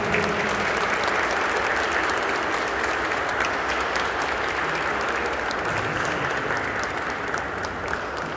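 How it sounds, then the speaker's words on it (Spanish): A church congregation gives sustained, dense applause during a coronation ceremony for a statue of the Virgin Mary and a medal presentation, steady and full for the whole stretch with no voices standing out. "yo pido un fuerte aplauso para él"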